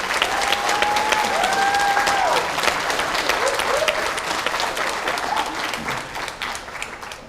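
A graduating-class audience at a 2018 Lapeer Community High School commencement applauds in a dense, steady wash of clapping that holds for the whole stretch, with a few whistles or cheers rising over it near the start.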